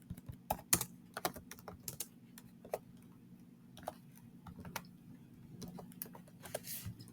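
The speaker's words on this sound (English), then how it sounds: "Now type in message." Computer keyboard keys clatter in quick, irregular bursts of typing, close and fairly quiet, with steady low room hum underneath and no talk.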